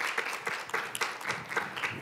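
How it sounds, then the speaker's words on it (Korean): Korean panel session audience clapping for two professors, a moderate round of applause with distinct individual claps pulsing through a steady patter. "다시 한번 심도 깊은 피드백과 코멘트 주신 두 분 교수님께 큰 박수 부탁드립니다."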